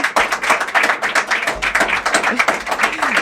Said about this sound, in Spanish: Un aplauso de nuestro público que está presente.